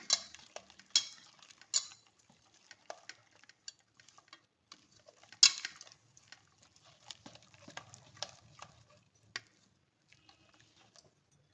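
Spoon stirring cauliflower 65 coating batter in a bowl, a scatter of light clinks and scrapes against the bowl at an irregular rhythm, quiet and close, with no voices.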